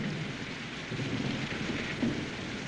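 Steady heavy rain pours with a low rumbling thunderstorm underneath, a dense continuous wash of sound with a soft swell of thunder near the end and no talk.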